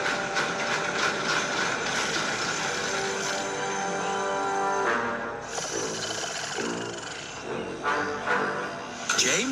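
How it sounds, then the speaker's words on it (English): An animated steam engine pulling the mail train at night, a continuous rumbling, hissing rail sound with tonal whistle-like bands and shifting intensity, no speech. "That night when Percy set out to take the mail train"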